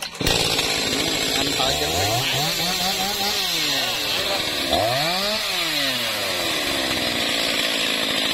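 A chainsaw revs and bogs while cutting into a Thai jackfruit tree heavy with fruit, its engine pitch rising and falling in long sweeps, loud and close, with someone speaking briefly over it.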